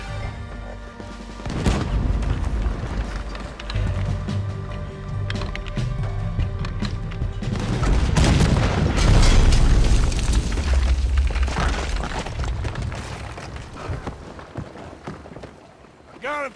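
Deep cannon booms and explosions rumble in Red Dead Redemption 2 gameplay set around a ship, with heavy blasts building to a loud peak midway amid game noise and speech.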